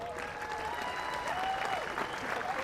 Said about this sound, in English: a big cheering